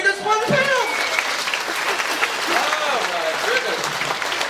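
An audience at a live comedy show in New Amsterdam claps for Pam, a moderately loud round of applause heard behind a voice that talks and exclaims over it.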